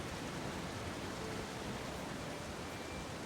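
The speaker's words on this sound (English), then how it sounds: "That waterfall is so loud." A loud waterfall in the AFK Journey video game gives off a constant, dense rushing roar that stays even from start to finish, with no voices.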